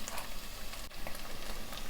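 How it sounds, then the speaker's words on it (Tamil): Spinach frying in oil in a pan gives a faint, continuous crackling sizzle with scattered small pops, heard alone and at low volume. "இப்போ எண்ணெயில் தான் வேகுது"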